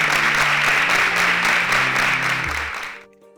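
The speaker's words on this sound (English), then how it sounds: "Kindly give them a round of applause" A studio audience on the InterswitchSPAK Kenya competition show applauds loudly and steadily over a sustained musical chord, then the clapping cuts off abruptly as brief music remains.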